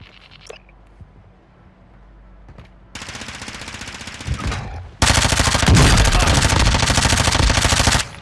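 Gunfire from a Plunder-mode video game match, rapid automatic bursts starting faint and sparse, then growing louder and denser, ending in a loud sustained machine-gun barrage.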